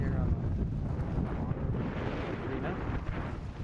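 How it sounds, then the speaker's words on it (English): Strong wind buffets the microphone outdoors in Strömstad, Sweden, a constant loud low rumble with gusty fluctuations throughout. "very windy today"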